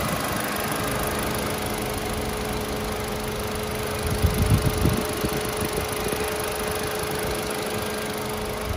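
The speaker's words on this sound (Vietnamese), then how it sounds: "máy đổ giòn tan luôn" A 2018 Kia Cerato with a 1.6 petrol engine runs at a steady idle, close and continuous, with a brief rougher burst in the middle.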